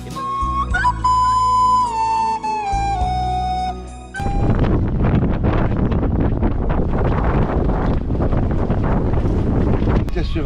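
Strong wind roars and buffets across open sea during a sailing crossing at around 20 knots, loud and continuous after a few seconds of music-like tones, with rushing water beneath.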